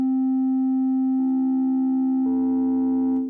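Sine wave synth tones from a Polyend Play, a pure sustained organ-like note that gains extra stacked tones at two points, loud and steady throughout.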